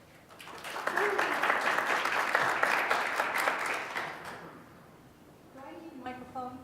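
An audience applauds a speaker at a conservation adaptation planning event, a few seconds of steady clapping that fades out as a voice begins speaking over a microphone.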